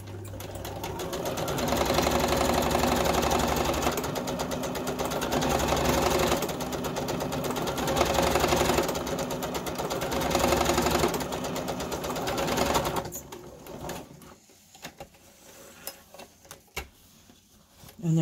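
A sewing machine runs in a long steady burst, stitching the pocket bag of an 18th-century style frock coat, with a dense mechanical whir at close range, then stops and leaves a few faint handling sounds.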